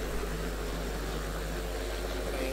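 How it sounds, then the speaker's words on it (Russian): Speedway motorcycle engines at a New Year race produce a continuous, dense mechanical roar that holds steady throughout, with no voices over it. "этот рев моторов"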